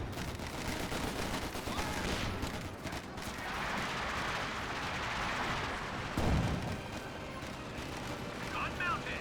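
Infantry gunfire and explosions from a Company of Heroes 2 battle. Repeated bursts and rattling volleys rumble at mid distance under steady commentary, with a heavier blast partway through.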